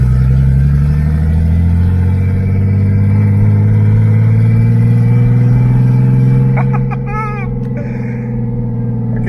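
A turbocharged BMW E36 running with no exhaust roars loudly and steadily from close by, a dense rumbling drone that eases slightly near the end, where a brief higher chirping cuts through.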